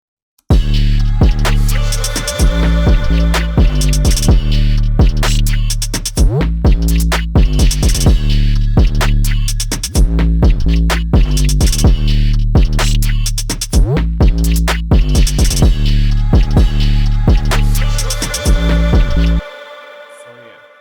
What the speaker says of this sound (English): I'll try to solo the drums with the 808